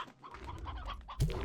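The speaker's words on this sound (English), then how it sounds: "Have some more little chickens." Small chickens clucking in the Slime Rancher 2 video game, a few short bird calls near and fairly clear, ending with a louder burst of sound.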